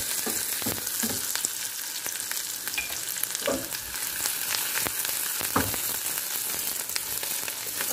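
A Noche Buena dish sizzling as it fries in a pan, a loud continuous hiss broken by stirring scrapes and sharp crackling pops, close and steady with no voices.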